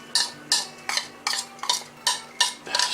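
Cornbread batter stirred in a bowl with a utensil, sounding as about eight regular scraping strokes, each a short swish against the bowl, close and clear with no talk.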